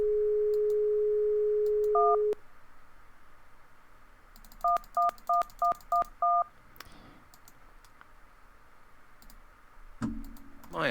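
An answering-machine telephone in the Mystery of the Druids video game: a steady dial tone, then rapid dialing tones in short bursts with sharp clicks between, ending in a low muffled rustle; no talk.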